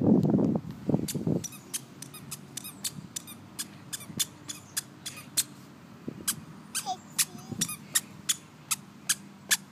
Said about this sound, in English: And that's the squeaky shoes.